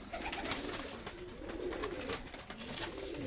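A Pakistani pigeon in a home loft coos softly at close range, a low rolling call repeated over a faint background hum.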